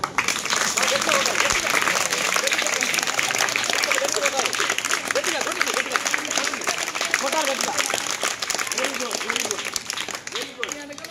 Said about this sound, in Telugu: అందరూ ఒకసారి గట్టి చప్పట్లు కొట్టండి